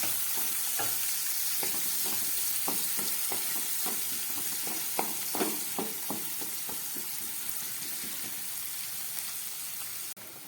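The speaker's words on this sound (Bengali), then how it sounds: "এবার এর মধ্যে দিয়ে দিচ্ছি কেটে রাখা পেঁয়াজ।" Chopped onion frying in a pan for a fish-roe curry, a steady close sizzle broken by a run of clicks and scrapes from stirring in the middle.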